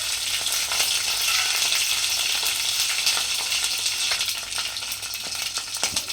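Mustard seeds, urad dal, curry leaves and dried chillies sizzle and crackle in hot oil in a pan, a steady close frying hiss with scattered pops, no voices.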